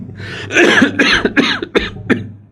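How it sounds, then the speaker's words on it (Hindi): A person coughs several times in a rough, hacking burst, close and loud, the coughs spaced unevenly over a couple of seconds. "खांसी चल गई"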